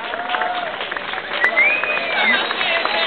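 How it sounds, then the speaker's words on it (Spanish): Steady, dense applause from a large convention crowd at a comics event honoring voice actor Humberto Vélez, continuous and fairly loud, with voices and cheers mixed in. "Que suenen en venga los aplausos para Humberto Vélez."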